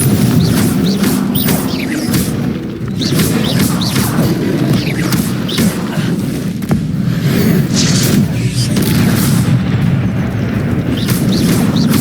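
Booming spell blasts fired in a Harry Potter video game, a loud continuous barrage of thumping explosions and crashes overlapping one another with no let-up.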